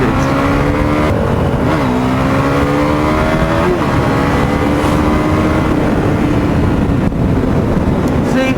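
A KTM RC390 motorbike accelerating hard while overtaking, its loud, close engine note climbing in pitch and dropping back at each gear change, over constant wind rush.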